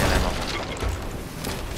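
Ship cannons booming during a naval battle in the pirate game Sea of Thieves, heavy low blasts and rumbling impacts layered over crashing noise, loud and dense throughout.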